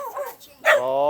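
A single dog bark rings out in Bacong, Philippines, after a moment of faint chatter, followed by a sustained whine-like tone; close and fairly loud.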